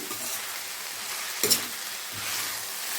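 Chilli powder being stirred into ivy gourd frying in a pan, a steady broadband sizzle with one brief scrape of the spoon midway and a softer stir near the end.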